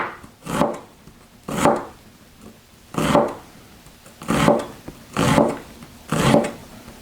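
A knife cross-cuts zucchini on a wooden board in six evenly spaced slicing strokes, each a close, crisp scrape and thud against the board with quiet pauses between.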